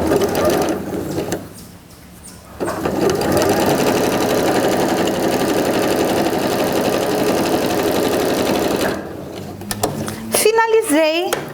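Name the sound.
sewing machine stitching a quilt block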